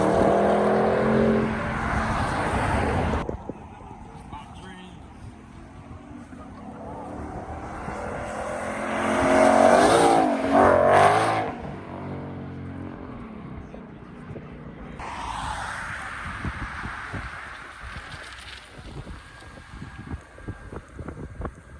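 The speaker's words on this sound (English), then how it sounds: "Here comes the Audi, y'all" An Audi passing at a car meet, its engine swelling loud for a few seconds and then fading, with wind buffeting the microphone and other car noise before and after.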